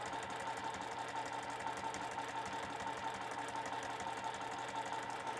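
A sewing machine stitches through fabric while a cupcake-themed piece is sewn, giving a quiet, even, rapid mechanical whir that holds steady throughout.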